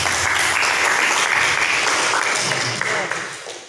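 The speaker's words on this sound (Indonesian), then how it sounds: "Tepuk tangan untuk mahasiswa Praya Barat." Students of Praya Barat get a loud, sustained round of applause at an organization gathering, the dense clapping fading toward the end with voices mixed in.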